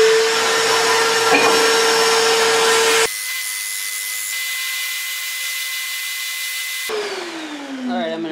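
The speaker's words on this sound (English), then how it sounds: "And I'm gonna bring them down with the sander." A power sander grinds down small wooden pieces for a whirligig, a steady loud whine that shifts pitch partway through and again near the end, running continuously without speech.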